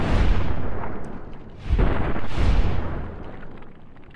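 Gunfire from a weapon in Fallout: New Vegas, heavy rolling booms in two loud bursts with a brief dip between, fading out toward the end, with no talking.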